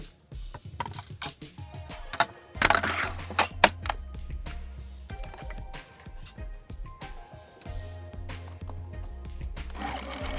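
A freshly cleaned home sewing machine runs in bursts, its mechanical whirr and gear clatter starting and stopping close by, with a few louder clicks and rattles between runs and no talking.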